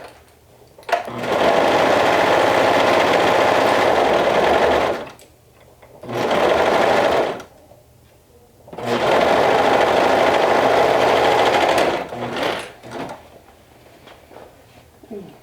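A serger sews a quarter-inch seam in knit fabric without trimming, running in three loud, steady bursts of whirring stitching separated by brief pauses, close up with no voices.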